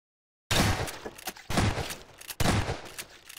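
Gunshots in the video game Prop Hunt: three loud, sharp blasts at roughly one-second intervals, each ringing out briefly before the next, with no talking.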